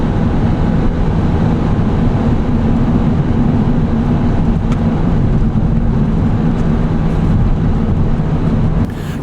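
Inside a high-cube van driving onto the Severn Bridge heading into England: a steady, loud, continuous road and engine drone with tyre roar, unbroken throughout, no voices.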